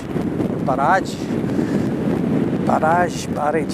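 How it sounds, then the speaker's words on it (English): Heavy wind buffets the microphone in a constant low roar on an exposed hillside in the Ochil Hills, with a few short voiced sounds breaking through briefly. "You don't feel as if you're getting any peace and quiet when it's as windy as this."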